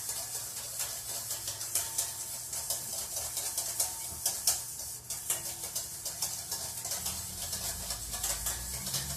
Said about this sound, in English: we're just going to whisk nice and slowly. And just keep adding oil in.